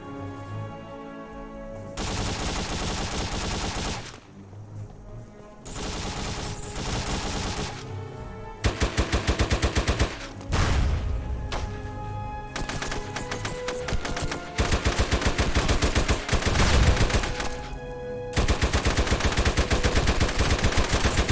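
Sustained online firefight in SOCOM 2, with dense bursts of automatic gunfire and rapid shots that stop and restart in waves, loud and close throughout, with no talking.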